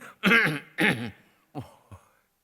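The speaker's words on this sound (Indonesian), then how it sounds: "Mesti batuk begini, dia begini." A few close coughs: two strong hacking bursts followed by two quieter, shorter ones, trailing off into silence.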